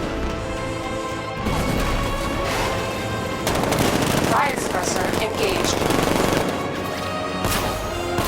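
Tank cannon blasts and rapid gunfire from Batman: Arkham Knight, with repeated heavy impacts and bursts of shots layered over continuous loud game noise, while a voice talks through parts of it.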